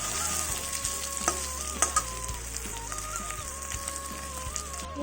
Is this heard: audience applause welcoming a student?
no